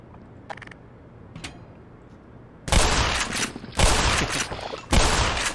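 A shotgun fires at barnacles in Black Mesa, with about three loud, close blasts in the second half and mechanical clanks from pumping between them, after a quieter stretch with faint clicks.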